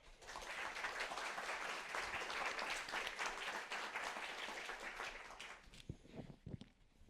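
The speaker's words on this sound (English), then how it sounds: "will you please join me in giving a very warm round of applause for Hans-Ulrich Obrist" Steady, full applause from a sizable art forum audience, loud and continuous, thinning out in the last second or so.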